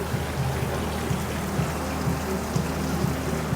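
Waterfall spilling into a resort pool on Koh Samui, a steady splashing, trickling wash of water heard nearby, continuous and even throughout with no voices.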